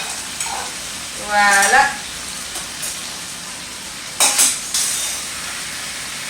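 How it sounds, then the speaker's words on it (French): Meatballs go into a pot of potatoes for a meatball stew, setting off two loud sizzling bursts with a quieter crackle between them, close by, and one brief spoken word near the end. "on va venir mettre les boulettes ici"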